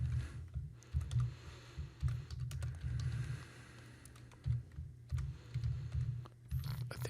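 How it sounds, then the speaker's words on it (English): Computer keyboard typing as code is entered, steady irregular clatter of keystrokes with brief pauses, close and moderately loud, with no talk. "you do need to type it in as I type it in"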